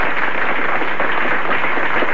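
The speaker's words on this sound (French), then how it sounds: "On va l'applaudir, le Président." An audience at a 1979 French-Canadian evening show applauds the president, a dense, steady wave of clapping from many hands that fills the room without pause.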